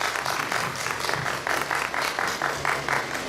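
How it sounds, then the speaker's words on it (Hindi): Audience applause at a Hyderabad celebration welcoming Dr. Manoj Kumar Yadav, a steady, dense wash of many hands clapping with faint rhythmic swells, close and full throughout. "जोरदार तालियों से स्वागत कीजिए डॉक्टर मनोज कुमार यादव का।"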